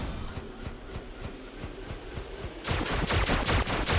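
Video game gunfire: a steady, rhythmic string of shots that grows louder and denser partway through, with no voices.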